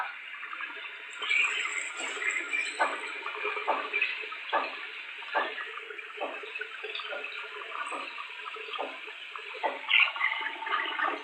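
A toilet flushing in a bathroom, a steady rushing of water with small gurgles and clicks, fairly quiet and continuous for the whole stretch, no voices.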